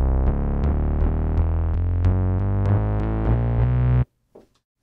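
A Moog Sub 37 preset, sampled and replayed through an Ableton sampler, sounds a run of about ten rich, buzzy synth notes in an even rhythm that ends abruptly, followed by a faint brief rustle.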